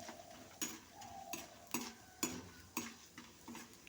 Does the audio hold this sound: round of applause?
no